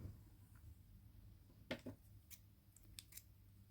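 Scissors snip crochet yarn in a few quick, crisp cuts, close and fairly quiet against a faint room hum, with no talking.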